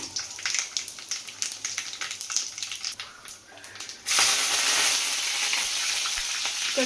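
Cumin and mustard seeds crackle and pop in hot oil with rapid, uneven bursts, then a sudden loud, steady sizzle takes over as more goes into the pan.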